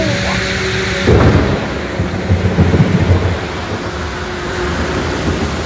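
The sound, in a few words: thunder during a sudden rainstorm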